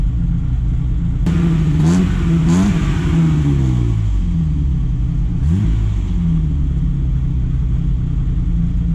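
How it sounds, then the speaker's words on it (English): A 1974 BMW 3.0 CS (E9) engine idles with a low rumble, then revs sharply a few times, the pitch climbing and falling back with each burst of throttle. "Yeah, rev her up."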